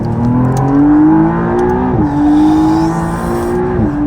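A McLaren hybrid sports car engine revs up close and loud, climbing in pitch, dropping briefly at each gear shift, then pulling hard again.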